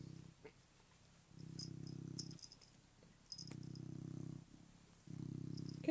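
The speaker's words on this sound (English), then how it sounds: "He's purring away." A cat purring close by in a bedroom, the steady low rumble coming in long bursts that pause briefly between breaths, with faint rustling of fabric and small clicks over it.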